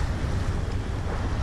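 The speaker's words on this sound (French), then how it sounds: "On s'est quand même attrapé 40 nœuds de vent dans les rafales." Strong wind gusts of up to 40 knots on a sailboat at sea rounding Cap Corse, heard as a loud, continuous low roar of wind buffeting the microphone, with a steady rushing of water beneath.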